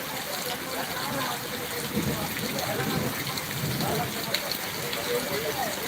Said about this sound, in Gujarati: અત્યારે વરસાદ ધોધમાર વરસી રહ્યો છે